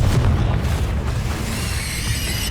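A Confringo fire spell detonates in Hogwarts Legacy, giving a loud, rumbling boom with a sustained low roar that stays heavy for the whole moment, and a bright shimmering tail rising in the second half.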